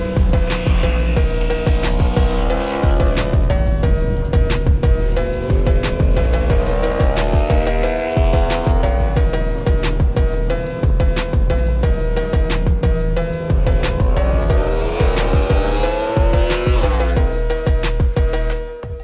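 A car driven hard around a race track on large-size tires, engine revving loudly and continuously through shifts with tire squeal rising and falling, close and strong throughout with no talking.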